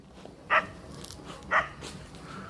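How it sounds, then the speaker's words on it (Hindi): A dog barks twice, about a second apart, sharp and mid-distance against a quiet, faintly noisy indoor background at night. "कुत्ते भौंक रहे हो।"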